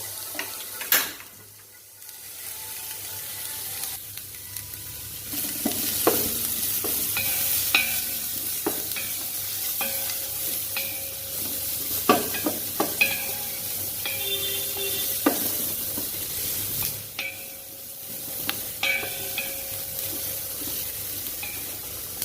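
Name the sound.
spices sauteing on low flame for white kurma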